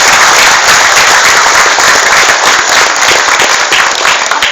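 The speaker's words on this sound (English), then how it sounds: "give yourselves a round of applause" A crowd at a company soft launch event in the Philippines gives loud, sustained applause, dense clapping filling the room.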